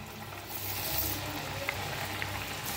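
Rice-flour chakli frying in hot oil, giving a continuous close hiss and crackle with a few tiny pops.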